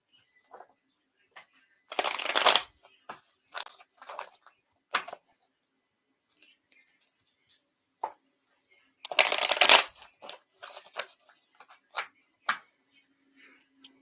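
A deck of cards is shuffled up close for a card reading, with two long riffle bursts and scattered taps and flicks of handling between them.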